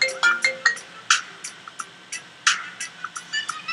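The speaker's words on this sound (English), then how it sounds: "I got a call coming in." A phone ringtone plays for an incoming call, a repeating electronic melody of short bright notes in quick bursts, close and clear, with no talking.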